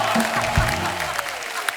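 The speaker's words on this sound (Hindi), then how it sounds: "दोस्तों अगर दिल से मजा आया तो दिल से तालियां होनी चाहिए आज।" Studio audience applause at a comedy talk show, steady clapping from many hands filling the room, fairly loud with a brief voice underneath.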